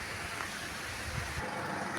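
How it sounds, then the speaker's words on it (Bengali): Strong wind from Cyclone Remal approaching the Bay of Bengal coast buffets the microphone as a steady, loud, broadband roar with low rumbling gusts and a faint hiss that could be light rain, without talk. "দেখুন আপনারা কি জোরে বাতাস হচ্ছে।"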